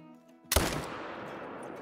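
A single loud, close rifle shot rings out against a grizzly bear on a mountainside in a hunting video game, a sharp crack followed by a long fading echo and rumbling decay.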